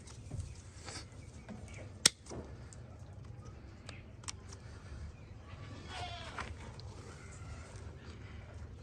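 A goat bleats during hoof trimming, with a few short, fairly faint bleats scattered over quiet background noise, plus a sharp click partway through.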